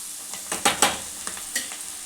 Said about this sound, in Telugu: ముందుగా ఈ అల్లం వెల్లిగడ్డ పేస్ట్ మొత్తం పచ్చివాసన పోయేంత ఫ్రై కావాలి